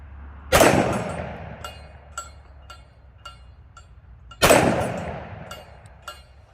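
Two sharp, loud 10mm shots ring out about four seconds apart from a Smith & Wesson M&P pistol loaded with hot Hornady Custom 155 grain XTP rounds, each blast trailing into a short echo, with light clinks in between.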